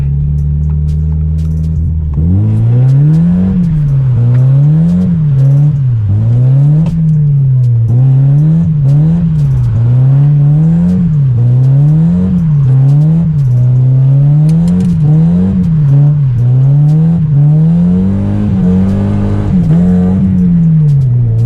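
An Audi R8 engine revs repeatedly while driving, a loud, close rumbling tone rising and falling in quick cyclic bursts with gear-change dips over about twenty seconds, strong low-end drone throughout.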